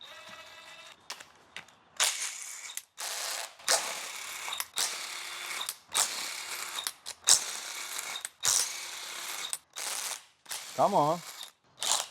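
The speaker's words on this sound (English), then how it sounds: "Remove the valve cover first." Bursts of ratcheting and clanking metal come from a wrench working on the valve cover of a 3.6 engine during a teardown in a shop. The ratchet runs in short repeated bouts, a voice speaks briefly, and one tonal squeak sounds near the end.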